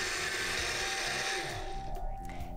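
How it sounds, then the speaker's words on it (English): Countertop blender running on high, a loud steady whirring drone that shifts pitch slightly as the contents churn, close and continuous. "we're gonna blend this on high for about 2 minutes"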